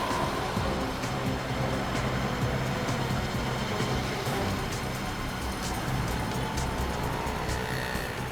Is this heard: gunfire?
no